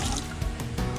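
Water runs steadily from a restroom faucet at a botanical garden with good pressure, a continuous close hiss and patter with slight fluctuations throughout.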